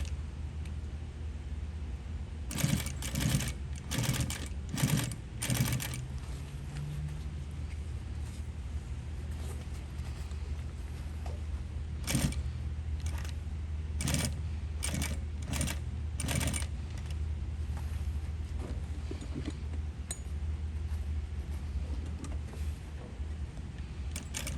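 A sewing machine stitches in reverse on the hook-and-loop ripcord handle of an RA1 reserve parachute, running in faint, short bursts with quiet pauses between them.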